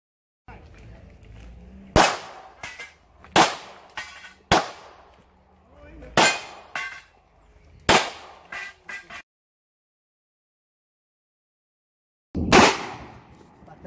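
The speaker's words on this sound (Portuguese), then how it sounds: "Põe no meio do alvo, atira." Handgun shots at a basic shooting course, sharp loud reports fired one at a time with pauses of a second or two between them, a longer gap before a final shot, and a voice giving instructions in between.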